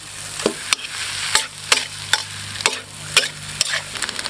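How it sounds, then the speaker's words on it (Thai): Thai banquet-style fried rice is stir-fried over high heat in a pan, with a steady sizzle broken by repeated scraping and clanking strokes of a spatula at an irregular rhythm, close up and without speech. "เดี๋ยวเราก็จะผัดไปเรื่อยๆข้าวเขาล้วน เป็นเม็ดเป็นเม็ดเลยนะครับ"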